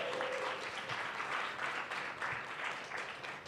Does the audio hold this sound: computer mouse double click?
no